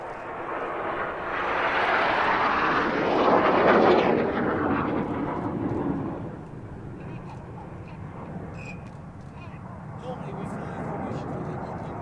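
Jets roaring past in line astern at an air display, a loud swelling rush that peaks and fades into a distant rumble, with a commentator talking over it.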